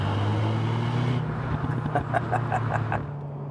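An Alpine A110 accelerates hard with a rising engine note, then a turbo whoosh followed by a rapid series of sharp exhaust pops and crackles, close and loud.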